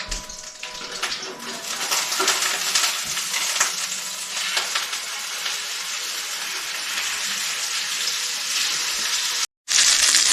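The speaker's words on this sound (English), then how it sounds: "they've been frying on this one side for about 3 minutes" Steady, loud sizzling of pork chops frying in a hot pan, a continuous crackle and spatter that runs without a break.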